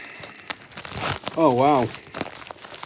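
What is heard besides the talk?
parcel packaging being forced open by hand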